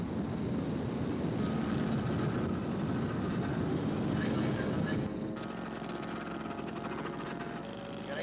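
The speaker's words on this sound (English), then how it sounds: "Albatross up overhead, DVA 1 is the name of that aircraft." At a scale model air show, a model aircraft, an Albatross, drones overhead with a continuous engine buzz mixed with broad outdoor noise, its tone shifting partway through.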